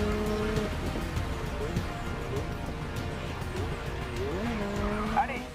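A race car in GRID Legends skids after a missed braking point, with tire squeal and engine pitch swooping over steady engine drone; someone talks over part of it.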